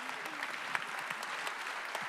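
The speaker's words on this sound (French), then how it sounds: "applaudissements à vous" Audience at an anniversary gala evening for a French anti-death-penalty organization applauds honorees, continuous close clapping with a few sharper claps standing out and faint voices underneath.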